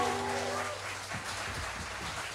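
Audience applause for a band at an evening show at Xcues, a dense, steady patter of many hands clapping that stays full and even throughout.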